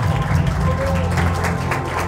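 Audience clapping for graduate Nigina Bonu at a 2024 graduation ceremony, a steady, moderately loud patter of hands with a faint murmur beneath it.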